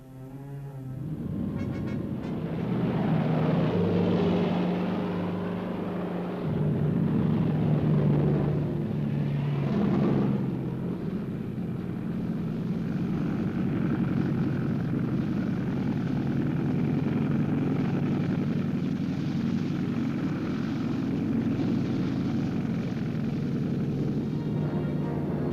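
German Junkers aircraft and gliders in flight over Crete on 20 May 1941, a loud, sustained droning engine roar that swells and holds steady, continuous with no voices.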